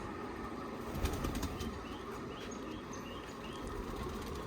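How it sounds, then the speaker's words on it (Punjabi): A burst of wings flapping as released pigeons take off, a flurry of fluttering over steady outdoor background noise, no talking. "ਇਹ ਜਿਹੜੇ ਕਬੂਤਰ ਆਪਾਂ ਹੁਣ ਛੱਡਦੇ ਆਂ"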